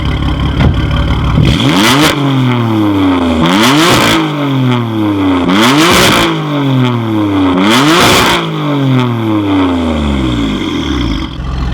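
Nissan GT-R with an Armytrix exhaust revving hard, five loud, aggressive rev blips that each rise and fall back, spaced about two seconds apart, ending in a falling roar that fades out. Heard up close.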